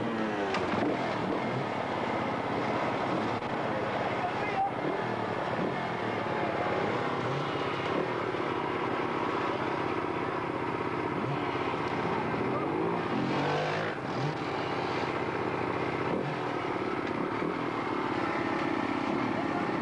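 A 1994 car's engine runs steadily after being coaxed to start, a continuous rough mechanical drone close by with a few brief clunks and shifts, and people talking over it at times.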